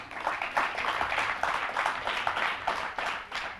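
Audience applause at an awards ceremony, a dense steady patter of many hands clapping at moderate level throughout, with no break.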